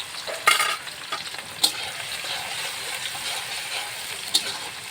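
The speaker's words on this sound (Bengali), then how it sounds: "এখন আমি ওর ভিতরে পেঁয়াজ দিয়ে দেবো।" Onions sizzle and fry in a hot pan for a silver cup fish dopiaza, a steady close crackle with a few louder clatters and stirring scrapes, no one talking.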